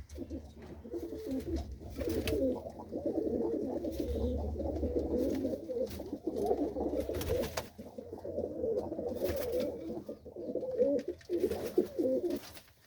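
Female pigeon cooing close by, a steady run of low, rolling coos repeating in soft bursts with brief pauses between them, alone and fairly quiet.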